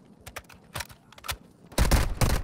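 Rapid automatic gunfire in the mobile shooter Warzone Mobile: quick light bursts of shots, then a louder, denser volley that fills the last second.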